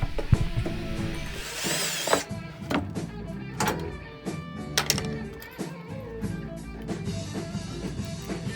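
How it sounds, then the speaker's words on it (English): A power drill bores a 20 mm hole through wood, working from both sides, giving a sustained close whirring grind with shifting pitch and a few sharp knocks and pauses. "I'm drilling this 20 millimeters hole from both sides to avoid tear"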